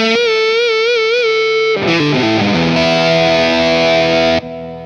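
An Asmuse foldable travel headless electric guitar through an ALP plays a high-gain, heavily distorted tone: a wavering bent note, then a quick run into chugging chords held loud and close until a sudden stop.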